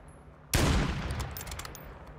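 Loud burst of video game gunfire that erupts suddenly and rolls on as a dense, crackling volley, with no talk over it.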